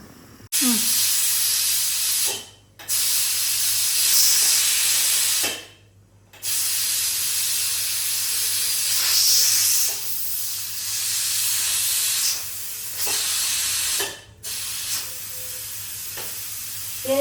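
Pressure cooker whistle blasting out steam in a home kitchen, a loud, close, continuous hiss broken by a few short pauses, with no speech over it.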